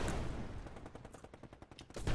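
Rapid automatic gunfire bursts from a match of the shooter Eximius, dense stuttering volleys filling the whole stretch with no voices over them.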